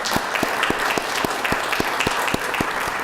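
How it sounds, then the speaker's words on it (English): Applause at a city council meeting in Oceanside, a moderate crowd clapping with distinct, sharp individual claps standing out in a fairly regular rhythm over a steady wash of hands. "And let's give them a round of applause, please."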